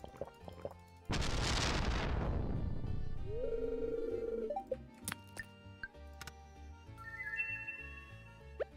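A mega bomb detonates in Stardew Valley with one sudden, loud, roaring blast that decays over about two seconds, followed by softer game tones and small clicks.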